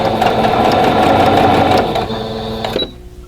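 Sewing machine running steadily while stitching a quilt block of green bias-cut fabric, a fast continuous whirring patter for nearly three seconds before slowing and stopping.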